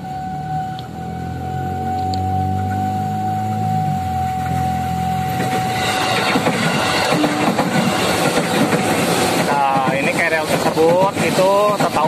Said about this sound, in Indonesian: cocok untuk hunting-hunting KRL, karena 5 menit sekali KRL tersebut bolak-balik